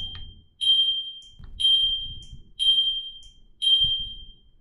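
A quiz buzzer in the Banjo-Tooie game sounds four times in a row, each a sharp, piercing electronic tone that cuts in and trails off, evenly spaced and loud.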